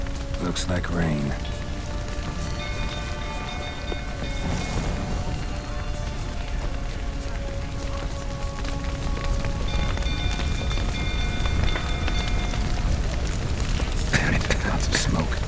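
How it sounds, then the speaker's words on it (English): Rain patters steadily in The Witcher 3: Wild Hunt under game music tones and scattered impacts, and dialogue is heard over the top. "Looks like rain."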